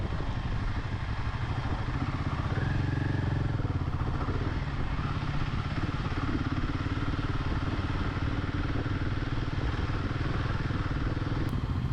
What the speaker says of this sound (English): This bike actually has a lot of power in it, and you can feel it while riding.